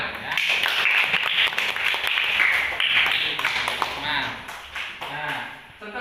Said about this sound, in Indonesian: Tepuk tangan buat Mas Akmal ya.